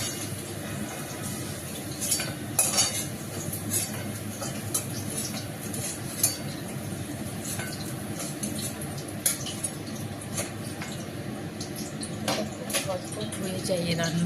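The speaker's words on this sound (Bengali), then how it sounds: "এবারে আমি নাড়ানো" An egg dish is stirred in a pan, with scattered light clinks and scrapes of utensil on metal throughout, mostly faint and partly under a background voice.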